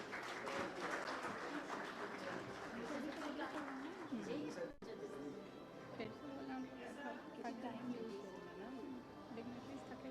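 Audience applause at a water sustainability awards ceremony, steady clapping throughout with a murmur of voices and some talking mixed in, moderately loud and continuous.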